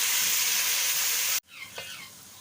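Whole dried chillies, coriander and turmeric for a curry pakora sizzle loudly in hot oil, then the sizzle cuts off abruptly and gives way to quieter frying.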